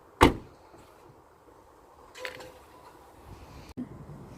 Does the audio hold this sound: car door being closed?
yes